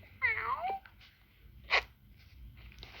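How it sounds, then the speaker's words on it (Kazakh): A cartoon cat in the Toca Boca video game gives one clear, drawn-out meow that slides downward, followed a moment later by a short bright chirp, with quiet gaps around it. "мына жақта мысық не істеп жатыр."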